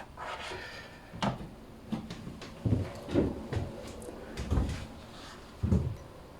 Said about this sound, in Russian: Закрыть, открыть дверь.